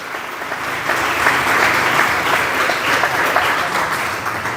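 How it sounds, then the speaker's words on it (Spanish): Loud, dense applause from a church congregation celebrating a priest's anniversary, sustained evenly throughout with no speech over it. "Un aplauso para el Padre, que hoy está de aniversario."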